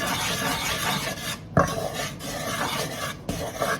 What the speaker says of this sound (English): we will give this a quick stir